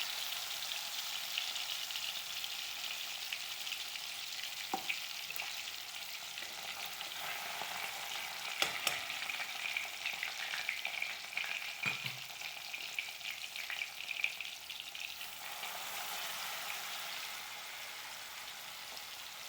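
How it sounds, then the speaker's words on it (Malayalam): Orange-juice-and-masala-marinated fish fries in hot coconut oil, a steady close sizzle that runs for the whole stretch, with a few brief clinks and stirring taps along the way. "മീൻ അതിലേക്ക് ഇട്ടിട്ട് നമുക്ക് പൊരിച്ചെടുക്കാം"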